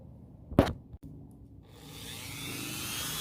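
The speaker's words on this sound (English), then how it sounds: "I'm gonna go ahead and grab the Dremel so I can get to sanding this little ugliness out of here" A Dremel rotary tool sanding a Honda Spree scooter engine part during a big bore kit install: a short bright burst of grinding, then a steady whirring rotary hiss that builds and holds close up.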